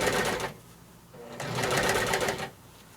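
A sewing machine does freeform stitching on a textured applique quilt, two loud close bursts of rapid whirring separated by a brief quiet pause.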